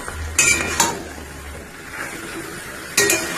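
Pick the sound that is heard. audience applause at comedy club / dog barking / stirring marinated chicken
stirring marinated chicken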